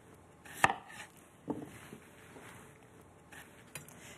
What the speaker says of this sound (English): Cut in half like that